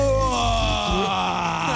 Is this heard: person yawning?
yes